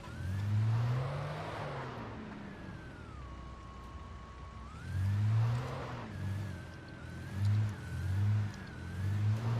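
A car engine in the Alan Wake video game revs and surges in repeated waves, with a steady whine underneath, fairly quiet and without speech.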